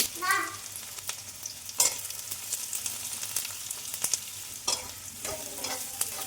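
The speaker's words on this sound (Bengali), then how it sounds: "একটু পেঁয়াজটা একটু ভেজে নেব" Chopped onions fry in hot oil in a wok with a steady crackling sizzle, while a utensil stirs and scrapes against the pan in short bursts.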